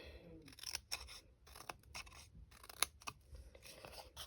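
Scissors notching small tabs in a paper card for a bouquet box card, a series of close, quiet crisp snips with brief pauses between cuts.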